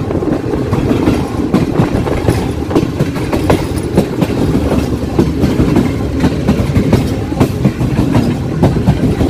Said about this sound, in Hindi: बहुत ही खूबसूरत ट्रैक साउंड के साथ लाहौर कैंट से थ्रू पास हो रही है 7 तेजगाम एक्सप्रेस